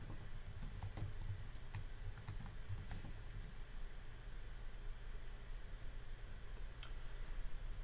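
Typing on a computer keyboard to log in to an account, a few quick clustered keystrokes early on and one more later, faint against steady low background hiss.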